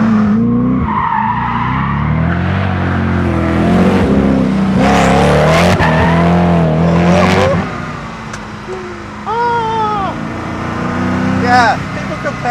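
A Koenigsegg Agera R driven hard around a small track, its engine loud and close as it revs and shifts, with tire squeal and skidding, and someone speaking over it.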